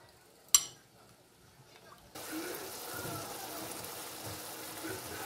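Water poured into a pot of ground beef seasoned with cornstarch, onion and garlic powder, thyme and pepper, a sharp clink first, then a steady close gushing pour filling the kitchen.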